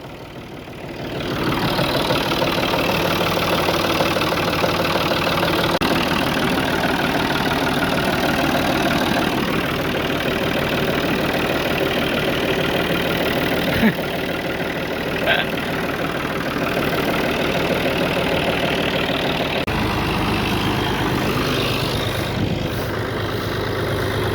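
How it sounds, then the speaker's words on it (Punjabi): A steady, low tractor engine idles continuously at close range, with a rough, even rumble and a brief rise in pitch partway through. "ਟਰੈਕਟਰ ਬਾਹਰ ਕੱਢ ਲਿਆ ਜੇ, ਸਟਾਰਟ ਵੀ ਕਰ ਲਿਆ"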